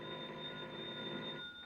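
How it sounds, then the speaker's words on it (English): A telephone bell rings continuously in a 1950s American radio drama, a steady electric ring with a constant high tone that stops abruptly near the end, fairly faint and alone without voices. "a bell started ringing somewhere and woke me out of a sound sleep."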